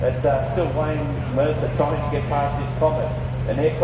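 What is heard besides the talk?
No distinct noise like a dog, phone or traffic.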